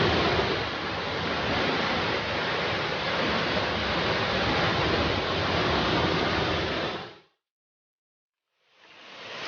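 Panalaban Falls in Majayjay, Laguna pours with a dense, steady roar of falling water that holds constant for about seven seconds, cuts to brief silence, then swells back in.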